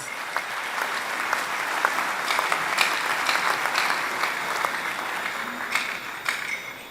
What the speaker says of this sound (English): Let's congratulate the recipients with a round of